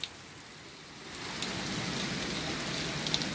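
Heavy rain pours down steadily and grows louder partway through, a dense close hiss with scattered drops hitting a surface.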